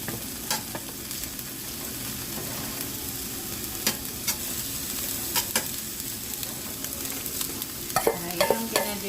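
Onions sizzle steadily in a hot pan, a close, even crackle broken by a few sharp clicks and scrapes from stirring, with no speech.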